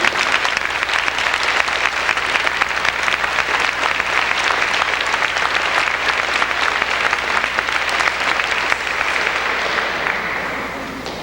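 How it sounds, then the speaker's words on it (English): Sustained, loud applause from a school concert audience on their feet at a 1993 Spencer, Iowa band concert and senior awards, a steady dense wash of clapping for about ten seconds before tapering slightly at the end. "let's give a nice big round of applause"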